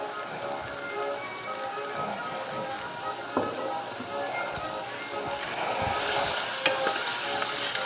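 Vegetables cook in oil in a pan with a soft, steady sizzle and occasional stirring clinks, faint and close, swelling louder near the end as the frying intensifies.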